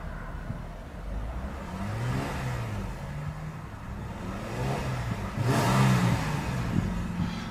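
A parked 2016 Jeep Wrangler Unlimited Sahara engine idles and revs up and down a few times, hitting a rev limiter around 3000 RPM, swelling louder near the end.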